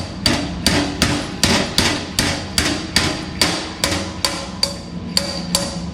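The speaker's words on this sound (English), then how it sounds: "use the slide hammer in the action to pull the part" A slide hammer clacks sharply and repeatedly, about a dozen evenly spaced metallic strikes, each ringing briefly as it tugs on a dented part in a garage.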